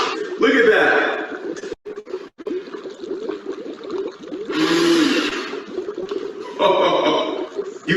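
Dry ice bubbles and fogs in soapy water, producing gurgling, fizzing bursts that come and go under excited talking.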